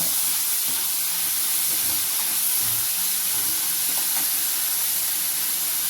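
Chopped tomatoes tossed into a hot pan for an egg pepper masala filling, giving a loud, steady hissing sizzle with faint scrapes of stirring underneath.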